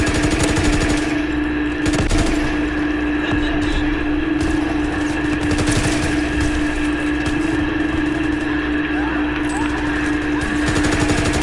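Shotgun fire in a PS4 video game comes as dense, loud, rapid blasts over a steady engine-like drone, continuous and close, with a voice breaking in now and then.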